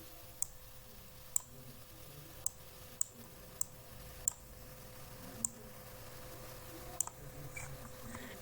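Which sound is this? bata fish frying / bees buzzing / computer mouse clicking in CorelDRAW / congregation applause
computer mouse clicking in CorelDRAW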